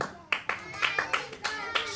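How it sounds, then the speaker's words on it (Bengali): An audience claps in quick, uneven bursts, near and fairly loud, over about two seconds at a blindfolded bottle-crossing game event, with voices faintly mixed in. "সবাই করতালি"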